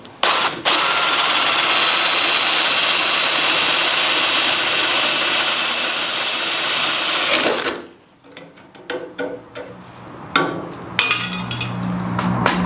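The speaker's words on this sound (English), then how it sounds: "I think I'm going to have to drill that one." Power drill boring out spot welds on a Land Rover 130 Defender bulkhead, a loud sustained whine for several seconds that stops abruptly, followed by scattered metal clanks and tool knocks.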